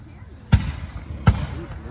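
Two sharp fireworks bangs about three-quarters of a second apart, heard from a distance over faint background noise during a display.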